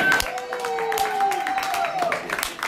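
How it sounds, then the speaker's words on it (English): A crowd of young women claps and cheers at a matchmaking game in Columbus, Ohio, a quick run of scattered claps with whoops and lively talk over them. "Hey, everybody, clap it up, man."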